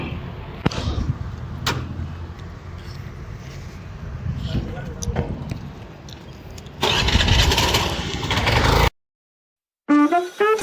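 Voices and rustling, then a Honda Activa scooter engine starts up and runs loudly for a couple of seconds before cutting off abruptly.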